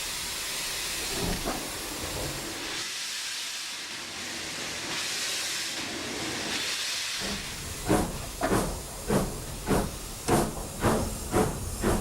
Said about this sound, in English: shut the drain cocks, release the actual steam brake, and open the regulator very,